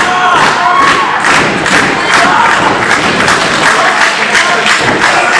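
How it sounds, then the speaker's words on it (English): Wrestler Christopher Daniels stomps his boot on the ring in a multi-man pro wrestling match, keeping a steady run of loud, close thuds in time with a roaring, cheering crowd. "Christopher Daniel stomping his boot to the beat of the crowd."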